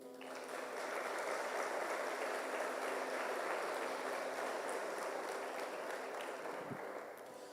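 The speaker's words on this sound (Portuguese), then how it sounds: "Aplaudir Jesus." A church congregation applauding steadily, dense even clapping that swells in, holds for several seconds, then tapers off, with no voices over it.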